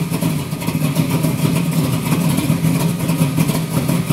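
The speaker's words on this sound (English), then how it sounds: "cold start." A 1973 Camaro pro-street restomod engine runs just after a cold start, a steady, loud, close rumble holding an even idle.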